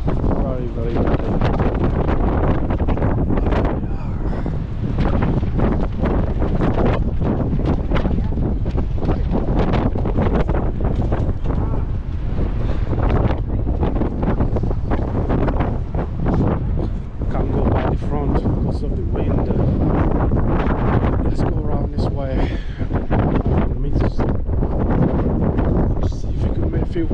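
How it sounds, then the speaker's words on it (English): Strong winter wind on the Blackpool seafront buffets the microphone with a loud, constant roar and rumble, gusting and thumping without a break for the whole stretch. "It's so windy as well"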